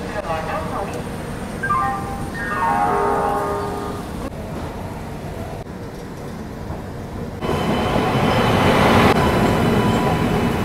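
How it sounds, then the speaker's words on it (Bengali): The Bikaner Express passes close by, a loud rumbling rush of rail cars with squealing wheel tones early on and a building roar of wagons toward the end, with voices heard alongside. "বিকানের এক্সপ্রেস।"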